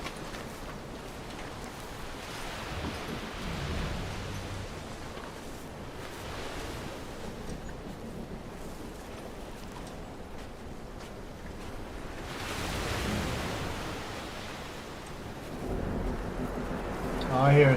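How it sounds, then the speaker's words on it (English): A steady roar of rain and rumbling noise, swelling into deeper thunder-like surges toward the end. "All I hear is thunder and lightning and shit."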